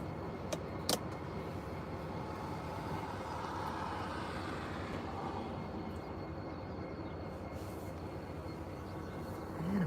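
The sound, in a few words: idling train locomotive engine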